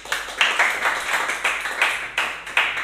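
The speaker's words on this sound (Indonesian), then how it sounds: "Tepuk tangan dong untuk Tuhan." Congregation clapping for God during a church sermon, a steady run of dense hand claps with rhythmic surges roughly every half second, fairly loud and close, with no talking over it.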